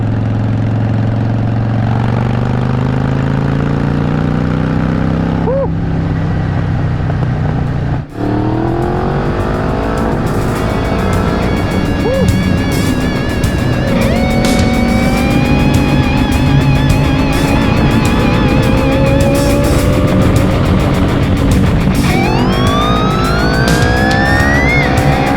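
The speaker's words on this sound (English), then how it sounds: "This is probably the loudest bike that I've had on the channel here" A 2016 Harley-Davidson Dyna Fat Bob with its 103 cubic inch V-twin pulls loud and close through a run of gears, the exhaust note climbing in pitch, dropping sharply at each shift, then rising again, with no speech.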